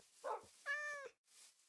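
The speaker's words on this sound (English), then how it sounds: "There's cats here." Cats meow in a video game village, a short faint squeak and then one clear, drawn-out meow, heard alone against a quiet background.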